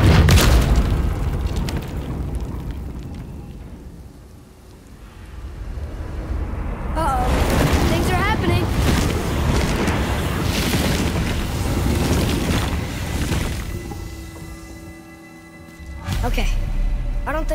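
A massive temple in God of War grinds and flips over on its chained axle, producing deep rumbling booms and heavy mechanical churning that swell over many seconds amid game music and sound effects, with people talking over it.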